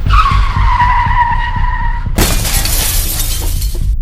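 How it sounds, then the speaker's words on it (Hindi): A car's tires screech loudly in a sustained skid, then a sudden crash of shattering glass and impact noise bursts in and continues to the end, with no voices. "उसकी गाड़ी उस बूढ़ी औरत से जा टकराई।"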